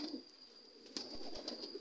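Pigeons coo softly in a pigeon farm enclosure, a faint low coo or two against a steady high whine, with a couple of light taps and knocks.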